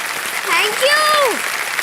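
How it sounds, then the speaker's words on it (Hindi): Steady, dense studio audience applause on the quiz show Kaun Banega Crorepati, with a short voice rising and falling over the clapping in the middle. "एक बार जोरदार ताली बजाए"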